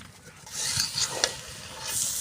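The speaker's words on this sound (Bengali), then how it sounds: "আজকে সবজি খিচুড়ি দেখেন খুব সুন্দর করে কিন্তু কষানো হচ্ছে" Vegetable khichuri sautéed in a pot on a lit clay stove, a close sizzle and hiss with scraping stirring strokes rising and falling for two seconds, no talking.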